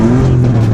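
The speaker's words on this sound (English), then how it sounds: "V10 engine," A Lamborghini Huracan's V10 engine holds a loud, close, steady rev for a brief moment, its deep tone shifting slightly, with no talking.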